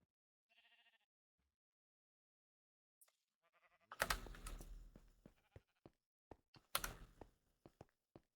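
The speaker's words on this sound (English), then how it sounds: "Here's a sheep and cow farm." Minecraft sheep on a sheep and cow farm give a couple of short bleats early on, followed by a burst of clicky, clattering game noises and taps that come and go.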